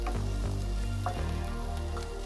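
Ginger, garlic, chili and curry leaves frying in a pan give a steady, close sizzle that runs unbroken, with a few soft knocks and stirring sounds over it.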